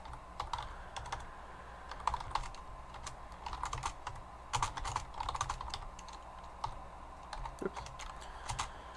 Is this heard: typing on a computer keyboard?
yes